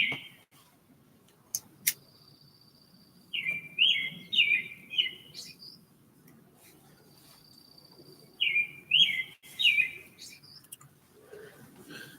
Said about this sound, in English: You guys hear them birds?